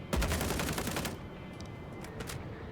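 Unsuppressed gunfire from a weapon in the video game Star Citizen, a rapid burst of loud shots in the first second followed by a few scattered bangs over a steady background hum.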